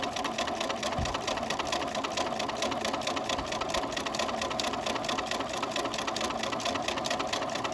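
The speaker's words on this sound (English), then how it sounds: "I'm going to put the Soft and Stable down onto the machine" A sewing machine runs steadily as it stitches through Soft and Stable foam stabilizer, making a fast, even mechanical whir with a quick rhythmic chatter that carries on throughout with no talking.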